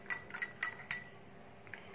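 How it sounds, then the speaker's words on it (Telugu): A spoon clinks against a glass of green tea with lemon juice as it is stirred, four or five bright close taps in an uneven rhythm, then fading to quiet. "మనం ఇలా నిమ్మరసం కూడా యాడ్ చేసుకున్న తర్వాత బాగా మిక్స్ చేసుకోవాలండి"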